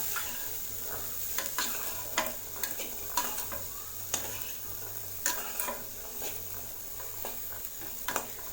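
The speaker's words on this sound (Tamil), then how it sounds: "கொண்டக்கடலையை நல்லா இந்த மசாலாவோட நல்லா மிக்ஸ் பண்ணி விடுங்க" Boiled chickpeas are stirred into masala in a pan over a low sizzle. A spoon scrapes and taps against the pan in regular strokes about every half second, close and clear, with a faint hum underneath.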